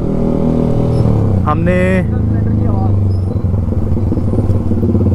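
A Kawasaki Ninja SX 1000 superbike engine drones steadily and loudly throughout while ridden, with someone talking over it.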